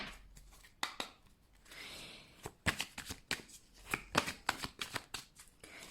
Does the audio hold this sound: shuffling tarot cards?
yes